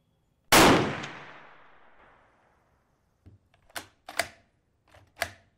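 A Kar 98 bolt-action rifle fires a single loud, sharp shot that rings out and decays over about a second and a half, followed by several clicking, clacking bolt-action sounds.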